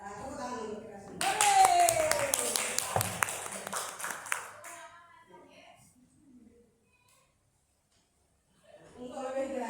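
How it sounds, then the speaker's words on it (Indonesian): A group of people in an Indonesian classroom or teacher-training session claps together briefly, a burst of sharp hand claps after speech, fading into near silence before talking resumes. "Tepuk tangan untuk kita semua."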